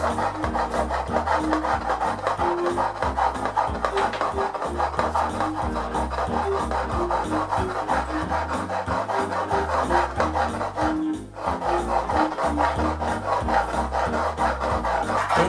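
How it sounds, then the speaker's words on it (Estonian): A two-blade hand saw cuts through wood in steady rhythmic back-and-forth rasping strokes, close and continuous, with one brief pause near the end and no talking. "Ma olen vist korra teinud ja nüüd ma üritan sellega siis saagida."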